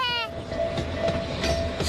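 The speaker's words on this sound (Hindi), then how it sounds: "मजेदार बात है ना, मिनी ट्रेन भी चलती है इस पार्क में।" Mini train running through a park in the cartoon Shinchan, a brief horn blast at the start, then continuous rolling rumble and clatter with voices talking over it.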